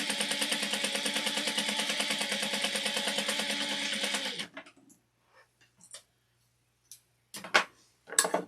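A sewing machine stitches fabric for a Halloween trick-or-treat basket with a steady, rapid mechanical chatter for about four seconds, then stops, leaving a few soft handling clicks and bumps.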